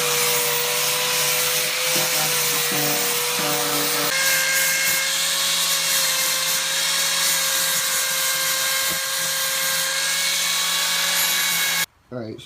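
Sanding Bondo body filler on a Dodge Durango body panel, a steady loud scrubbing rasp with a constant tonal whine running almost without a break, then stopping abruptly near the end.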